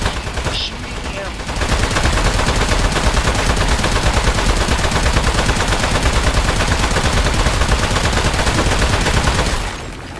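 Sustained, rapid automatic gunfire from a weapon in the video game Aperture Desk Job, aimed at a metal enemy. The loud, dense burst runs for about eight seconds without pause and then cuts off.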